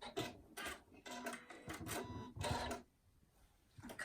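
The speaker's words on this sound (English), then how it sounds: "I'm going to sew 1/4 of an inch up to 1/4 of an inch away from the bottom" A sewing machine stitches the binding strip along the bottom edge of a fabric tool wrap, running in short uneven bursts of quiet mechanical whirring with brief pauses, close by and fairly faint, with no talking.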